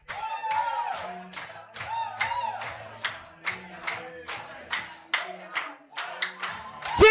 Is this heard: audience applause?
yes